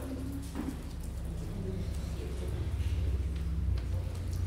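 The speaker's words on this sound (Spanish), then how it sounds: "comenzó a llover muy fuerte" Heavy rain falling, a dense steady hiss and patter that builds slightly in loudness, with a low rumble underneath and no talk.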